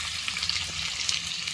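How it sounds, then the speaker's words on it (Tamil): Finely chopped onions sauté in hot oil in a pan for a chicken gravy, giving a steady, close bright sizzle with faint stirring scrapes and no voices. "நல்லா வெங்காயத்தை வதக்கிடுங்க"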